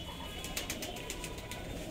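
Several Punjabi pigeons of one bloodline give soft cooing with quick bursts of wing flapping, the flaps recurring as a steady series of brief beats over a constant low background.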